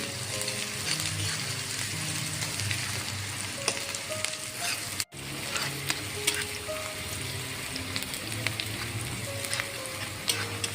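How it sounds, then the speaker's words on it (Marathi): Onion sautéing in a pan for winter garlic methi, a steady sizzle with frequent stirring clinks and scrapes of a spatula throughout, with one brief drop-out midway. "कांदा छान असा गुलाबी होईपर्यंत छान असा परतून घ्यायचा आहे"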